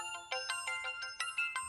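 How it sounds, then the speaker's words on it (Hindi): A phone ringtone plays a bright, repeating electronic melody of quick pulsed notes, close and clear, with no talking over it. "उस्ताद फोन बजाता"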